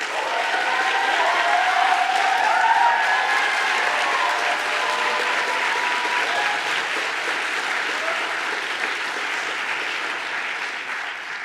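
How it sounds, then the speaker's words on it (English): An audience at a Seattle City Council District 3 candidates' debate applauds, a dense, even wash of clapping that holds steady for several seconds and then slowly tapers. "I think we just heard some of that applause."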